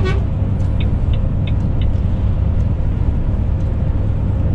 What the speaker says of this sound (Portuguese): Um caminhão ou um busão, ó, o ônibus aí.